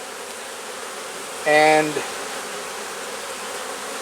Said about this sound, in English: there's a decent number of bees in this top box